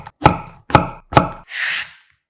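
A knife slices a king oyster mushroom diagonally on a cutting board: three crisp, evenly spaced cuts, then a softer scraping swipe, close and clear with no talking.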